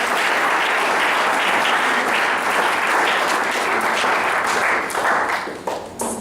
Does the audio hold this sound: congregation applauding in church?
yes